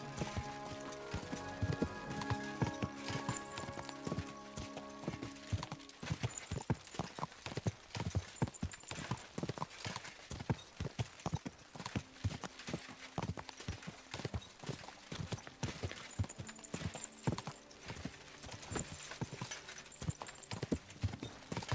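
Rapid, steady clip-clop of galloping horse hooves in the video game Kingdom Come: Deliverance II, loud and close, with a brief whinny and some background game music near the start.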